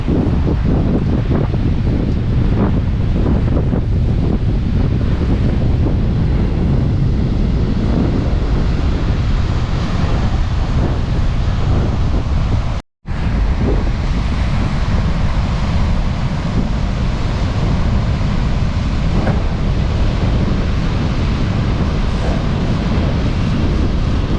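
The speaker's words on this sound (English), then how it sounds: "High winds, still kind of windy." Strong wind roars continuously into the microphone in Florida after a storm, with a heavy rumbling buffet and a faint wash of surf beneath, steady throughout apart from one brief dropout.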